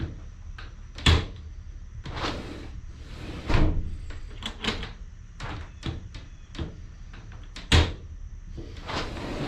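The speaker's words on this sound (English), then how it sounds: "then we'll test close the door" A treehouse sliding door is tested: several wooden knocks and thumps with scraping slides between them, three sharper bangs standing out, close by in a quiet space.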